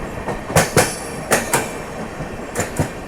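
A train on the rails is overtaken, heard as a run of loud clickety-clack wheel beats over rail joints in uneven pairs against a steady rolling rumble.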